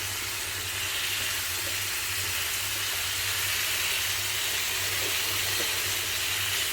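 Raw pumpkin and potato fry in a pan with five-spice tempering, giving a steady, even sizzle and hiss that holds from start to finish with no talking.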